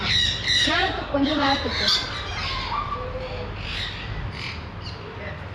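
A large parrot at an aviary bird park squawks in loud, harsh bursts close by, with people talking over it and a steady noisy background.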